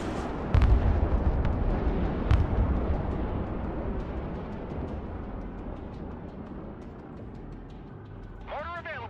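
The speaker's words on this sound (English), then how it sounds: "Another volley of ballistic missiles!" Ballistic missile volley explosions in the war video game Broken Arrow: a dense, continuous rumble of distant blasts with a couple of sharper booming impacts early on, a faint whistling sweep near the end.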